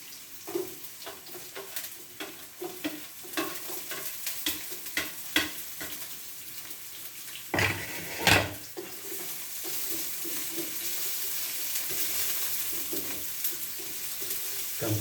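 Garlic fries in a pan with a steady close sizzle, broken early by quick stirring clicks and a couple of louder scrapes before settling into an even hiss.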